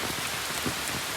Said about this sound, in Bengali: একবারে মুষলধারে বৃষ্টি শুরু হয়ে গেছে।